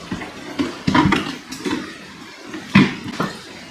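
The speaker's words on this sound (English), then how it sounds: "Start taking out some water. It'll be easier to do with less water in it." Water being scooped and poured out of a small nano aquarium tank, a few irregular splashes and sloshes close by with quiet pauses between them.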